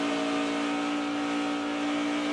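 A NASCAR Xfinity Series race car engine holds a loud, sustained, buzzing drone with a strong steady pitch as the car exits a corner on track, with no talk over it.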